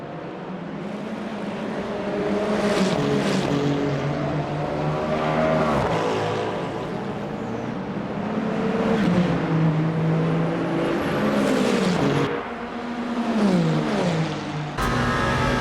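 Porsche and Ferrari prototype race cars closing in during the 24 Hours of Le Mans in the sim Le Mans Ultimate, engines droning steadily with rising and falling pitch sweeps as they pass, continuous and fairly loud throughout.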